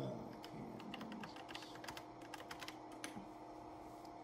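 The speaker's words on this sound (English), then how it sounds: "Type in your name." Keys on a TI computer keyboard tapped while a name is typed, a quick, irregular run of soft, close clicks at low volume with no talking.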